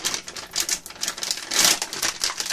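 A baking soda packet is torn open for bathroom mould removal, giving a close, loud run of crinkly ripping and rustling bursts in uneven pulses.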